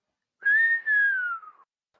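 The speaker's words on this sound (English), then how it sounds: "Peter whistled." A person whistles a single clear tone that rises slightly, then glides slowly downward, split by a brief break, heard alone and close.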